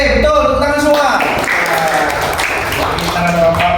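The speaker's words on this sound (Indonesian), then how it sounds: "Tepuk tangan semua." A class of students applauds together in an Indonesian Islamic religious education lesson, with a busy wash of claps and scattered voices throughout, fairly loud and close.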